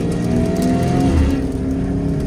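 A Ford GT engine idles and drones at a relaxed pace on a road in Sweden, heard from inside the car through an open window, with a loud, steady low-pitched rumble throughout.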